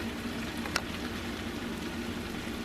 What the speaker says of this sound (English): I'm going to watch my hash browns cook here